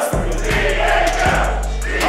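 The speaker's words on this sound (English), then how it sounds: "This crowd very excited." A crowd at a PWF professional wrestling show roars continuously and loudly, with a few heavy low thuds from the ring cutting through the cheering.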